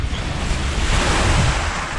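Ocean waves wash onto a black volcanic sand beach in Dominica, a loud continuous surf roar mixed with gusty wind buffeting the microphone, with no talking.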